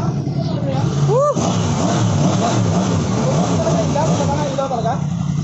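Yamaha MT10 2020 motorcycle engine revving in repeated loud, close bursts, with people cheering and shouting over it.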